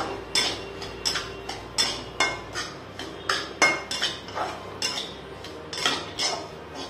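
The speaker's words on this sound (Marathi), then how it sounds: "हा आपल्याला बारीक असा रवा मस्त भाजून घ्यायचा आहे मंद आचेवर।" Fine semolina dry-roasted over low heat and stirred in a pan, giving a steady series of light metallic spoon clinks and scrapes against the pan, close and moderately quiet with no talk.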